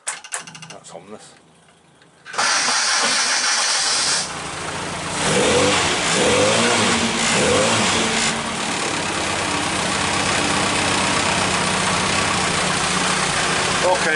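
A car engine ticks over at idle with a steady, even mechanical hum after a brief quieter start, continuing at a constant level under occasional voices.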